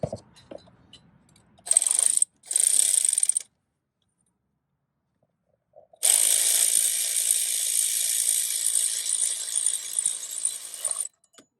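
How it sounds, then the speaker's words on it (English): An E10 socket on a ratchet tightening idler pulley bolts on a Mercedes-Benz BlueTEC engine: two short bursts of rapid clicking, a pause, then a longer steady ratcheting run, close and alone. "we're going to go ahead and use the E10 socket and tighten them down"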